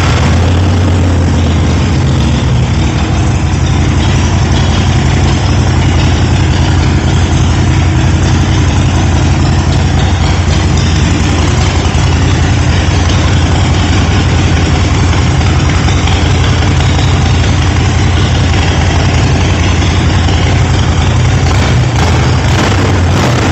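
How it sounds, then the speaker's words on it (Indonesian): Harley-Davidson Sportster 48 with an Evolution 1200cc V-twin and Vance & Hines exhaust, running close and very loud, a deep, continuous rumbling idle with no pauses and no talk. "Mesinnya tipe Evolution 1200cc. Kita coba cek sound,"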